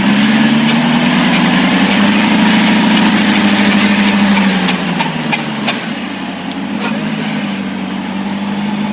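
The engine of a 2018 Jeep Trackhawk under repair, revving steadily up close, then the pitch sags as the revs drop, with a few sharp clicks before it settles into a lower, rougher idle.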